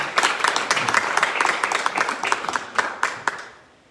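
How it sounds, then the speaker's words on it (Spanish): A church congregation claps during a pastor's sermon service, a dense burst of applause that thins into a few scattered claps and fades out by the end. "denle un aplauso al Señor"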